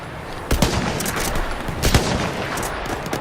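Gunfire in the video game Battlefield 1: two sharp close shots about a second and a half apart over a dense, steady crackle of distant battle fire.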